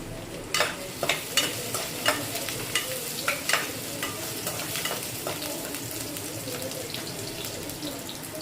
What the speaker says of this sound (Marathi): आता लसूणची फोडणी चांगली होऊ देऊया.